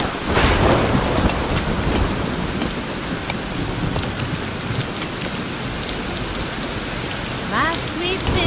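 Heavy rain falls steadily throughout a thunderstorm in the video game Rising World, with loud thunder rumbling near the start and brief crackling bursts toward the end.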